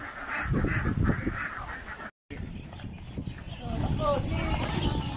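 Domestic ducks being chased and caught outdoors give several honking quacks that rise above nearby human talk, with rustling and movement around them and a brief dropout midway.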